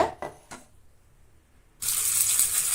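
Water poured into a mixer grinder jar to rinse out spicy radish chutney, a steady bright splashing rush that starts abruptly after a few soft knocks and keeps going close by.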